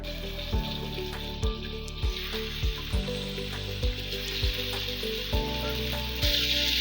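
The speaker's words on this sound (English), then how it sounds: "So I'm going to actually fry my meat now" Chicken sizzles in a hot pan with a little oil, a steady hiss punctuated by regular soft knocks repeating about every half second.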